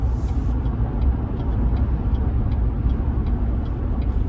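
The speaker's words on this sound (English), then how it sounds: "let's see if we get a little rumble here" Low, steady rumble inside a 2014 Chevy Silverado driving with a transmission shudder, with faint regular ticking over a continuous road and engine drone. No one speaks.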